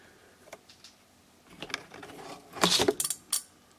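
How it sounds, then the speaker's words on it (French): Door-locking relay in a 1997 Renault Twingo with a central-locking fault, tested with a battery: scattered small mechanical clicks and ticks, building to a cluster of sharper, louder clacks near the end, close up and with no talk. "Donc il actionne bien, mon relais actionne bien."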